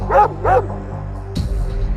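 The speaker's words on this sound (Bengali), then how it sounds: "ওরে বাবা, হে কুকুরটা কত বড়!" A big dog lets out two quick, deep barks close by, followed by a short rustle and low background noise.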